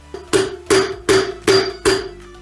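Five heavy, ringing blows from a big hammer on a Mazda RX-7 land at an even pace, each with a metallic resonance that fades before the next strike.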